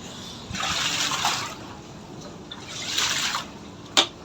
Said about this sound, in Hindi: जा रहा है पानी, जा रहा है, जा रहा है, जा रहा है।